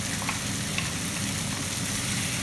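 Steady, close sizzle of tomatoes frying in a hot pan for South Indian garlic chilli chicken, a dense crackling hiss that holds evenly throughout with no talking.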